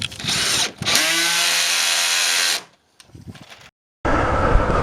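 A power drill drives coach bolts into wooden boards, whining loudly in two bursts with a brief pause between, followed by a few faint knocks and a short silence before another loud burst of tool noise.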